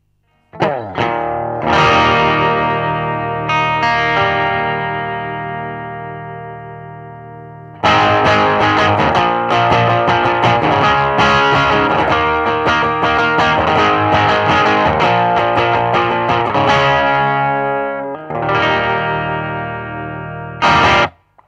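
Stratocaster electric guitar through Marshall-style pedals with a crunchy, slightly overdriven clean tone, strummed chords ringing out with short pauses between phrases.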